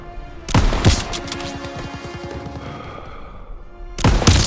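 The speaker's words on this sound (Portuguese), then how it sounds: "Tá atirando nos nossos tanques!" Gunfire from a shooter in the Call of Duty WW2 video game, with two loud close shots at the start and another pair near the end, separated by a rumbling, rattling stretch of battle noise.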